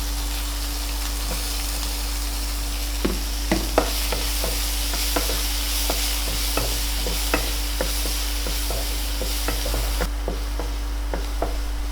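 Chopped onion and green chillies sautéing in a pan, with a constant sizzle broken by a regular series of spatula taps and scrapes from a few seconds in, close up and without talk, over a steady low hum.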